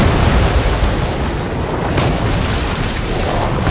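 Meteorites slam down and explode in Death Stranding 2, a sustained, loud rumbling roar of booming impacts with a sharper burst near the middle, no talking over it.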